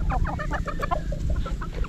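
Breeding hens and pullets clucking steadily nearby in a farm pen, several birds overlapping in a busy, continuous chatter over a low background hum.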